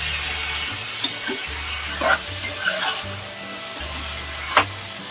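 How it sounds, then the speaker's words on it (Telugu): Chicken pieces frying in a pan with ginger paste and turmeric for a curry, a continuous hissing sizzle broken by several sharp stirring scrapes as the meat is mixed. "ఇప్పుడు మనం దీంట్లోకి చికెన్ వేసుకుందాం. దాంట్లో ఒకసారి మిక్స్ చేసుకుందాం."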